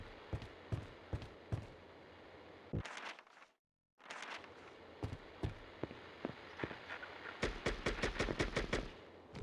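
AK rifle fire in the Silent Hill video game: repeated sharp gunshots in scattered single shots and short bursts, ending in a rapid volley of closely spaced reports, with a brief silent gap midway.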